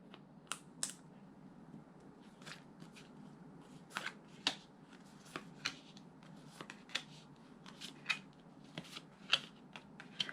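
Tarot cards being shuffled and drawn at a reading, heard as quiet, close, irregular flicks and slaps of card stock, with soft crisp taps scattered throughout and no voice.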